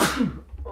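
A single sneeze bursts out at the start of a pause in chat, loud and close, its noisy blast fading over about half a second.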